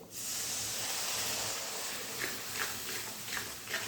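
Spice masala sizzles and hisses in a hot pan just after water is added for a raw jackfruit and prawn curry. A loud, steady hiss fills the clip, with a few soft scraping touches near the end.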